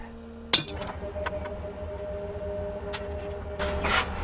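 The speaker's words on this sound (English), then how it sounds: "Got my trusty 3-pound sledge here." A single sharp metallic clink from a 3-pound sledgehammer strike rings out near the start and leaves a sustained tone, with fainter knocks and scraping afterward in an outdoor farm setting.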